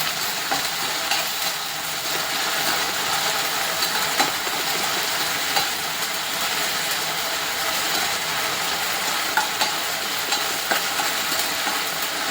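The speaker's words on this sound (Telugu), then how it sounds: "కొంచెం బాగా వేగాలి." Ginger and garlic frying in oil for paneer baby corn manchuria, a dense continuous sizzle with occasional scrapes and taps of a stirring spoon against the pan, close up.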